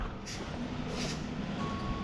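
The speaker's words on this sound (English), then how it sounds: "There's the concrete truck." Backup beeps from a concrete truck reversing at a stamped patio pour, steady over the broad rumble of the truck and site noise.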